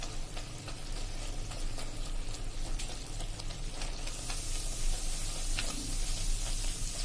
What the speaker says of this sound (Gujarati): અને હવે આને આપણે હળવા હાથે એકદમ સરસ હલાવી લેશું આ રીતે.